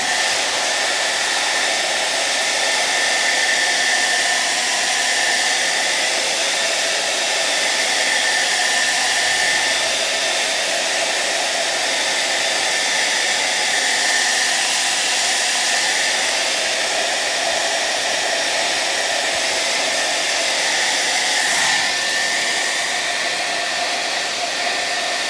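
A hair dryer runs steadily for the whole stretch, heating old window tint on glass, a constant whirring hiss of blowing air with no pauses.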